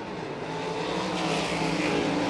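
Sprint cars racing on a Volusia Speedway Park dirt track at a World of Outlaws Craftsman event, a steady loud engine roar sustained throughout with no talk.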